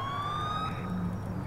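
A police car siren in the video game LCPDFR wails steadily and loudly over a low rumbling engine, with no talk.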